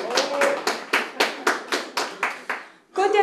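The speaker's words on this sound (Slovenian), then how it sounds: "Pa en aplavz prosim." Audience applause at a gathering of folk musicians, a burst of clapping swelling in rhythmic waves for about three seconds before fading, with a voice starting up right after.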